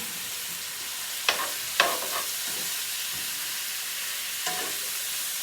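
Veal pieces go back into a pot of Italian sofrito for a stew and sizzle over a steady frying hiss, with a couple of sharp bursts as the meat hits the pan; no one speaks.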